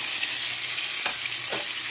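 Egg ingredients hit hot olive oil in a pan and sizzle steadily, a loud, dense frying hiss close by with a couple of brief stirring scrapes.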